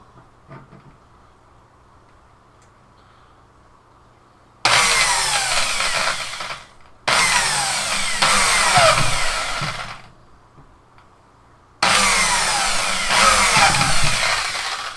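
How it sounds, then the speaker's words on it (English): Three bursts of a loud, whining power drill boring holes in a hydroponics/aquaponics system, each running a second or two to a few seconds, separated by short quiet gaps. "I also am going to have to drill another 2 holes for more air hoses"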